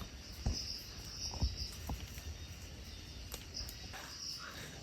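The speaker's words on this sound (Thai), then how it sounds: "เสียงกบเสียงอะไรพวกเนี้ยร้องใหญ่เลย" Frogs and other night creatures call in chorus outdoors after dark, with steady high insect-like trilling and scattered low thumps, quiet and continuous with no talk.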